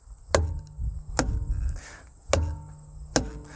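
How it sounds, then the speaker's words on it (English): Four sharp, hollow thwacks of a weighted wooden tire thumper striking a tire, spaced unevenly, close by and fairly loud. "the classic tire thumper with a weighted end, just a wooden tire thumper"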